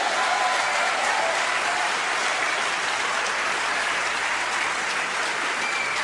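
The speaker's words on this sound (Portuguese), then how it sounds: "Você pode glorificar o Senhor e aplaudi-lo?" A church congregation applauds during a Portuguese-language sermon, a dense, even wash of clapping that carries on steadily without a break.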